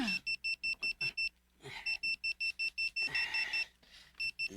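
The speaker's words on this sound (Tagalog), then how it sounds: "Nagtingog na ng alarm ni mo, oh." An electronic alarm beeps in rapid, regular pulses, stopping briefly and resuming, with muffled voices and rustling underneath.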